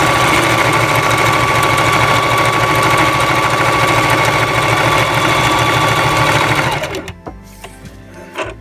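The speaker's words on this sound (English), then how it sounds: "I'm just going to sew along here" A sewing machine stitches a belt loop on a fursuit tail, running as a loud, steady, close mechanical whir for about seven seconds before stopping abruptly, followed by quieter handling sounds.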